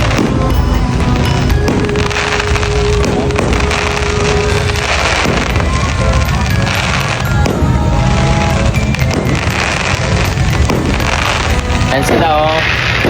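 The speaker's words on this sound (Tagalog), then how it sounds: "So may fireworks ngayon." Fireworks going off outdoors at a Halloween gathering, a dense ongoing crackle of bursts and bangs with wind buffeting the microphone and people talking underneath.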